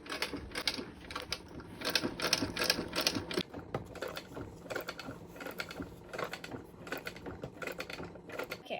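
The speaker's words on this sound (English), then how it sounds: "I just sewed my zipper" A sewing machine stitches a zipper into a leather bean bag chair, giving a steady rapid mechanical patter with short pauses and bursts, close and fairly loud, with no talking.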